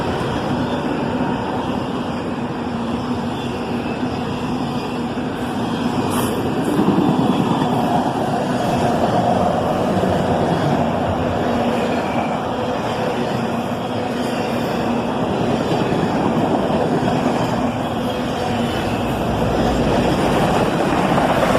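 A southbound CSX autorack train of empty cars led by two ES44AH locomotives, a loud continuous rumble of engines and rolling wheels passing nearby, swelling slightly midway and holding steady.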